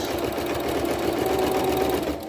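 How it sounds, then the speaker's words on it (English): A sewing machine runs a serpentine stitch across a quilt-as-you-go quilt, its motor whirring steadily and loud from start to finish with a fast, even needle rhythm and no pauses. "I'm starting a 1/4 inch in, right at my mark. And I'm doing the serpentine stitch."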